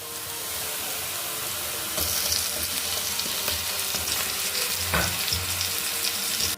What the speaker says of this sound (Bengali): এই মশলার সাথে ভালো করে কাজুটা ভেজে নিতে হবে